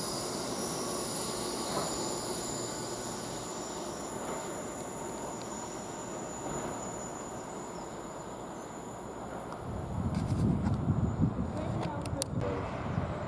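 An LNER train at Grantham railway station, a fairly faint rolling rumble with wheel squeal that grows louder and rougher near the end as it draws close.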